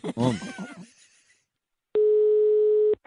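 A voice speaks briefly on a radio show, followed by a pause and then a single steady electronic telephone line tone lasting about a second as a call is placed.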